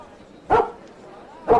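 A puppy barks twice, about a second apart, each a short loud yelp standing out against quiet background.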